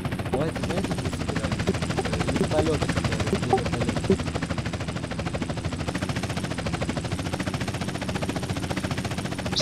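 A helicopter flying in a GTA roleplay game, its steady rotor thump and engine drone filling the whole stretch, with voices talking over it.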